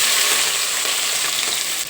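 Onion, green chili and curry leaves hit hot oil in a pan for tomato chitranna, producing a loud, dense, continuous sizzle close up with no voices.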